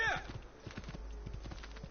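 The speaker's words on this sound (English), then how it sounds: "Get off the horse, Ezio, get off the horse." Horse hooves clip-clop in a steady walking rhythm in Assassin's Creed, preceded by a brief whinny, with faint game ambience underneath.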